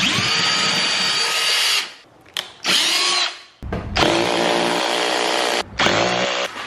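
A power drill drives screws into a wall stud in close, loud whirring bursts, with one long run, short stop-start pulses, then two more sustained runs broken by brief pauses.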